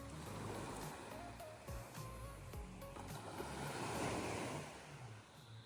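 Waves wash onto the beach at Tafatafa village on Upolu Island, Samoa, a soft, continuous surf rush with a faint low rumble and some wind buffeting the mic.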